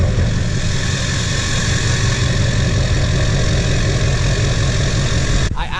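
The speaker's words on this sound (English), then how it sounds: "First, let's give it a cold start." A Duramax diesel pickup truck engine idles steadily after a cold start, a loud, close, low rumbling clatter that holds constant before cutting off abruptly near the end.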